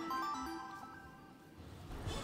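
Phone-like ringtone jingle from the Mario Party video game, a short bright melodic run of tones playing clearly and fairly loud over busy game background, with no voices.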